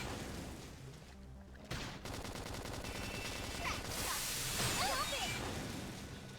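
Rapid bursts of gunfire from suppressive fire in the video game Xenoblade Chronicles X rattle densely amid whooshing battle effects and game music, with a voice talking over the action.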